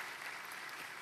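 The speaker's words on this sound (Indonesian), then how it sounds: "Tepuk tangan yang keras." Loud, dense applause from a church congregation at a main Sunday worship service, a steady wash of many hands clapping together with no pauses.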